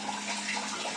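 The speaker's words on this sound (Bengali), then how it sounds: "কোনো জল নেই, কিভাবে জল পড়ছে।" Water trickling and splashing steadily from a reservoir tap, a continuous close hiss of flowing water with no pauses.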